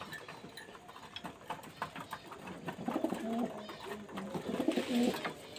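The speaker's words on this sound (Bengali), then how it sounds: "আর পায়রা তো অল্প হয়ে গেছে" Pigeons cooing softly in a home loft in winter, a low murmuring coo that swells and repeats, close and gentle, with light rustling around the birds.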